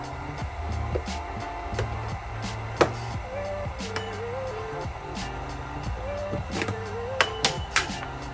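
Plastic clips pop off an Audi B7 A4 headlight assembly being taken apart, giving sharp scattered clicks and snaps, with one louder snap near the middle and a quick cluster near the end over low handling noise.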